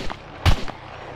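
A single loud gunshot in the survival game SCUM, a sharp broadband crack with a short decay, plus a fainter pop just before and after in otherwise quiet surroundings.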